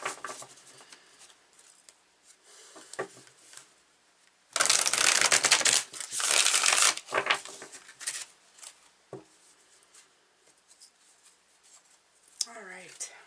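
Tarot cards are handled and shuffled close up, with soft taps at first, then two long bursts of rapid riffling and patter, and a few quieter flicks afterward.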